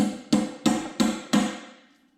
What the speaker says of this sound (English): just kind of make a small line and then tap it with the hammer